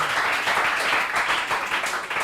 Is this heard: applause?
yes